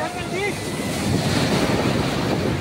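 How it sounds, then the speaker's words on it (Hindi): Sea waves surge and crash onto Marina Beach in Chennai, a loud, continuous roar of surf mixed with gusty wind buffeting the microphone, with no talk over it. "तो देखिए लहरें आ रही है कितनी तेजी से।"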